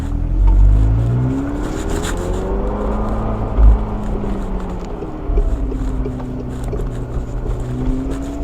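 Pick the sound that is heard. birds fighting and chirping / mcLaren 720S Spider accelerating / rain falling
mcLaren 720S Spider accelerating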